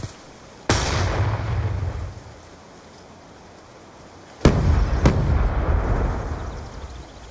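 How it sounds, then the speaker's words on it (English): Explosions in a first-person shooter video game, with a grenade burst and two sharp blasts, each followed by a roaring rumble that decays. "I'm gonna frag that van straight away."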